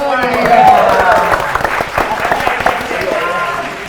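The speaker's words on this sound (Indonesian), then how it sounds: "Tepuk tangan dulu dong." Studio audience on an Indonesian quiz show claps after a contestant's correct answer, a moderate patter of applause mixed with talk and background sound.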